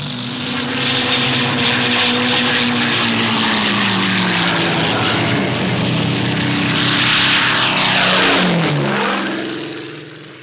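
A propeller aircraft takes off, its engine drone loud and steady, swelling as it passes close by, then the pitch drops sharply as it moves away. No voices are heard.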